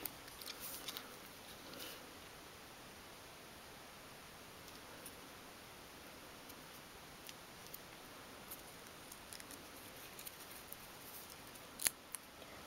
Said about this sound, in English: Trim that off a little bit.